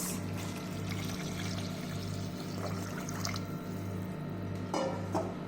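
Water poured into a pot of basmati rice for green pulao, a steady liquid pour running throughout under a low constant hum, with a couple of brief splashy drips near the end.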